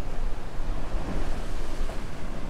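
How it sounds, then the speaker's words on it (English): Sea waves crash against the rocky shore at Peñíscola, Spain, a loud continuous roar of surf mixed with wind buffeting. "the way that water's crashing, we might get this spouting phenomenon"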